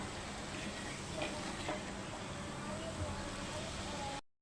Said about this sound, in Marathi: हे सगळं असं एकदम मिक्स करून घ्यायचं आणि छानपैकी असं भाजून घेऊया